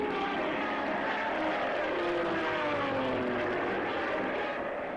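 Piston engines of World War II British and American fighter and bomber aircraft attacking the Normandy invasion coast: a loud, continuous droning roar with overlapping engine tones that slowly rise and fall as planes pass, no speech.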